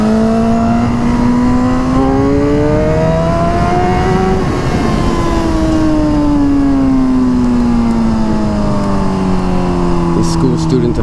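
A 2009 Suzuki GSX-R 1000 motorcycle engine while riding, a loud steady drone whose pitch rises and falls smoothly with the throttle throughout.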